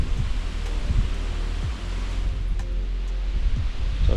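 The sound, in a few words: incessant wind on the riverbank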